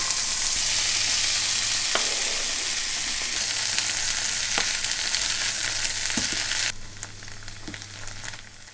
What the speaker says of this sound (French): je fais désormais cuire mes champignons et mes petits pois à la poêle